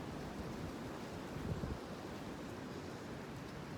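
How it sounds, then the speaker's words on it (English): Strong wind blowing steadily across an open outdoor archery range, a constant broadband rush with microphone buffeting and a brief louder gust midway. "But the wind is really picking up."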